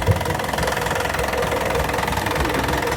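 A boat's marine engine, just repaired after a fuel leak, runs steadily at close range with an even, throbbing idle and no voices over it.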